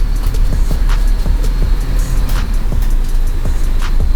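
A school bus drives along with steady low engine rumble and road noise, punctuated by brief hissing bursts from its air brakes, all loud and close throughout.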